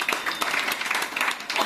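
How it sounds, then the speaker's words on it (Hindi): Brief burst of steady clapping from a crowd at a Women's Day event held by a women's Patanjali yoga committee in Lucknow, dense and even throughout, with no pauses. "मुख्य अतिथि का स्वागत करते हुए कृपया जोरदार तालियां बजाइए।"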